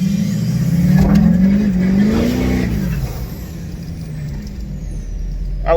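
A Duramax pickup truck's engine revs and accelerates, a loud, rising drone for about three seconds that then eases into a steadier, lower rumble, with no voices.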